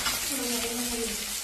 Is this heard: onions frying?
yes